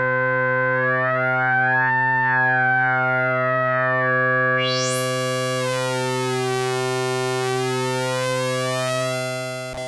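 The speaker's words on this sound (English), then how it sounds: "So get really nice dirty bass tones from this" A buzzy, distorted analog synth drone from a Moog Prodigy holds a low bass tone, Oscillator 2 pitched above Oscillator 1, while a resonant filter sweeps up and warbles through harsh, gritty overtones.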